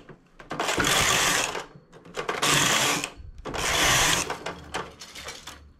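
A knitting machine carriage knits rows of lace, three long rasping sweeps in a steady back-and-forth rhythm, each a loud close whoosh-clatter separated by brief pauses.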